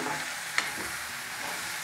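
Spices for tempering a cauliflower and capsicum fry crackle and sizzle steadily in hot oil, a broad hiss with a brief sharp pop, close by and with no voices.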